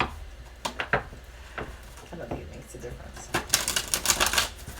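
Tarot cards are shuffled by hand, giving clattering riffles and rustling bursts that build toward the end, mixed with a person speaking.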